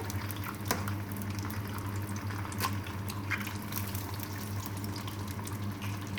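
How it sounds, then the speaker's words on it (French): An egg fries in oil over maximum heat, a continuous bubbling crackle with a steady low hum underneath and scattered small pops, close and fairly even throughout. "moi je mets de l'œuf d'abord. Je vais faire frire dans l'huile."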